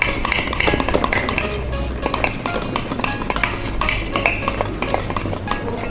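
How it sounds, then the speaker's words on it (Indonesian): A mixture of avocado, chocolate and margarine is whisked by hand in a bowl for a cake, a fast, steady rhythmic clatter of utensil against the bowl heard up close with no talking. "ini kita bisa kocok manual ya"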